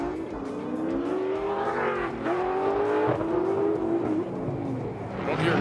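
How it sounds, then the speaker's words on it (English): Drift car exhaust at a Formula Drift Utah Top 32 round, a loud continuous engine note rising and falling in pitch as it revs and shifts through the run, with some tire noise underneath. "Listen to the exhaust note layout."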